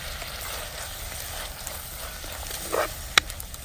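Onions and tomatoes fry in a pan under a steady, moderate sizzle, broken near the end by a brief stirring scrape and a sharp clink.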